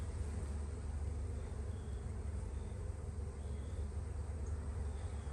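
Honey bees humming around an open, crowded hive with frames exposed, a continuous low drone of many wings that stays faint and steady throughout, with no voices.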